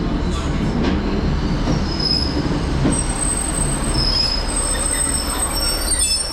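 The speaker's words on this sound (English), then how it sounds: "arriving in now is going to be the 10:23 Northern service to Carlisle from Lancaster" Northern class 156 passenger unit 156404 rolling into a platform at Lancaster, with a continuous rumble of wheels on rail and high, drawn-out brake and wheel squeals rising and fading, loud and close.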